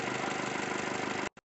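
A 2015 Jeep Cherokee 2.4 MultiAir engine with a stalling, low-compression fault runs with a steady, slightly pulsing idle, then cuts off abruptly with a brief final burst.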